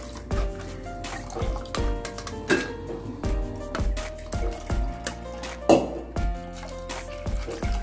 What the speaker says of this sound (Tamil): இப்போ நாலாவது தண்ணி நான் புளியறேங்க.